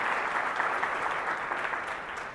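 A business-event audience claps steadily to welcome a guest onto the stage, a dense, even wash of applause with no pauses.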